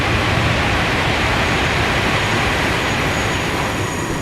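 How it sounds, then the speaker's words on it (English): A goods train rumbles past close by in Farming Simulator 19, a dense, loud, continuous roar of rolling wagons filling the whole few seconds with no talk. "The train's almost deafening, as you can see it there."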